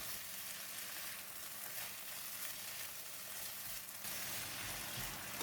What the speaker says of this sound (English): Give it a couple of mix to incorporate the ingredients.